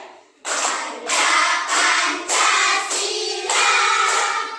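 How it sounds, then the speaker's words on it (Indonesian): Children in a classroom clap their hands in a steady rhythm while singing the song Garuda Pancasila together, the claps landing as regular sharp beats under the loud group singing. "kita menyanyi sambil tepuk tangan ya"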